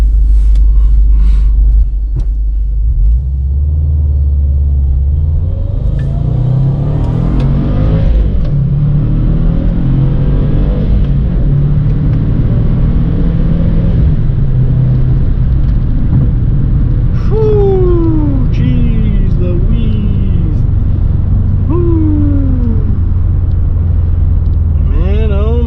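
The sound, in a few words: Subaru WRX car engine during slow takeoff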